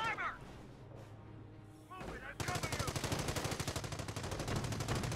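Gunfire from the World War II strategy game Company of Heroes: quieter battle noise at first, then a sudden loud, rapid machine-gun rattle of evenly spaced shots that keeps on to the end, with voices over it.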